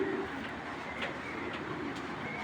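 Racing pigeons, including a female, coo softly in a loft, low repeated murmurs over a steady hum of background noise with a few faint bird chirps, no talking.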